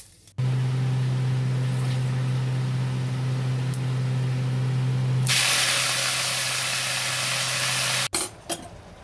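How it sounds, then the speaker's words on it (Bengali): Mustard seeds and dried chillies hit hot oil in a pan, a steady loud hiss that swells into a bright, dense sizzle halfway through, over a low kitchen hum, with no talking. "সর্ষে আর শুকনো লঙ্কা দিচ্ছি, ভাজা করে নিচ্ছি"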